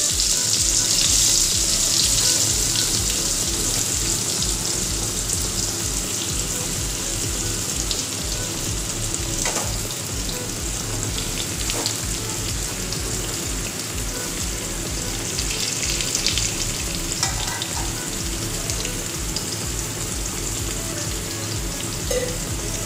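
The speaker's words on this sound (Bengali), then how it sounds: "খুব ভালো করে এটাকে ভেজে নিতে হবে।" Vegetables frying in hot oil with spices for a vegetarian Bengali pumpkin and bottle gourd dish, a dense continuous sizzle and crackle held close and steady throughout, with no talking.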